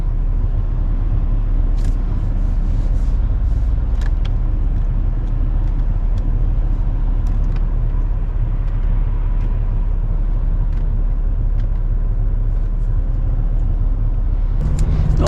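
Volvo S80 3.2 on a test drive, a steady low road and engine rumble from inside the car with faint intermittent clicks and rattles, no talking.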